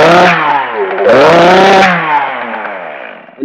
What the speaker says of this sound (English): When you first start one of these saws, an Echo especially, they start a little slow.